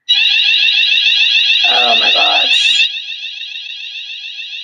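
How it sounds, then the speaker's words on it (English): A fire alarm sounds loud and continuous with a steady high-pitched electronic warble, briefly joined by a startled voice, then continuing slightly quieter until the end. "As you can hear that, that's the fire alarm."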